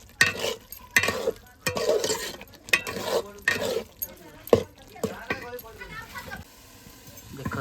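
Prawns frying and being stirred in a pan for a prawn dalma, with repeated scraping stirs and a steady sizzle, while someone talks over the cooking throughout.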